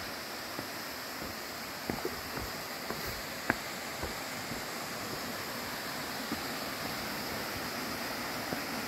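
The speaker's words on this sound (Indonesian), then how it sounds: "Nah, itu dia air terjunnya itu." Kedung Kepyur waterfall on Mount Lorokan, a small falls pouring over a boulder the size of an elephant, heard as a steady broadband rush of falling water with a few faint knocks and clicks nearby.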